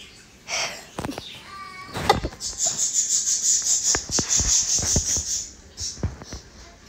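A cat meows in the PKXD mobile game, a tonal, repeated call cutting through busy game sounds and clicks, fairly close and moderately loud, with a bright sustained effect running alongside.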